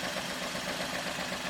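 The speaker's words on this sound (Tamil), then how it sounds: "இப்போ பார்த்திங்கன்னா இன்ஜின் ஸ்மூத்தாக ஓடிக்கிட்டு இருக்குது" A four-wheeler car engine idles smoothly, a steady, even hum with faint rhythmic pulsing that stays constant and fairly quiet, with no talk over it.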